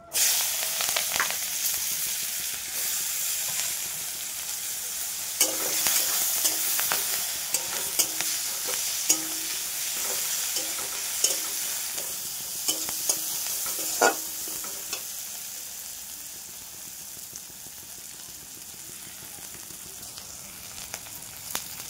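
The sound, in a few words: chopped onion frying in oil in a wok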